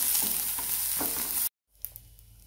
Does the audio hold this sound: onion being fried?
yes